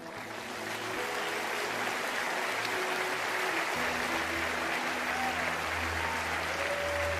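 Sustained crowd applause at a church service, a dense wash of clapping that swells in the first second and holds steady and loud throughout, with faint tonal sounds beneath.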